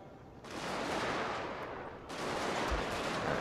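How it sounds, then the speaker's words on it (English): Troops fire in the strategy game Shogun 2 Fall of the Samurai, a dense, sustained roar of massed musket volleys that swells twice, loud and without talk. "Open fire at something, please."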